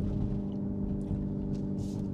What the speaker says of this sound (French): j'ai baissé le volume du moteur virtuel là